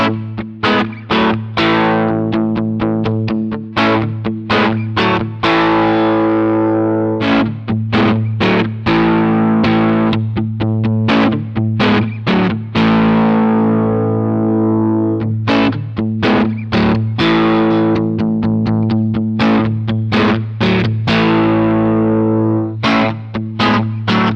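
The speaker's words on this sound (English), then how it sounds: "let's hear some more sounds featuring the Fender Noiseless Pickup in the bridge" Distorted electric guitar through a Fender Noiseless bridge pickup on a Photogenic MG200, playing a driven riff with sustained chords and choppy palm-muted bursts, loud and thick throughout.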